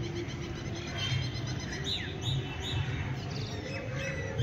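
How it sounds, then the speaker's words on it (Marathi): Several birds chirp and twitter softly over a steady outdoor evening hum, with short repeated calls scattered throughout, including a koel calling; no talking. "हा पक्ष्यांचा किलबिलाट आणि कोकिळा पण किती सुंदर ओरडते"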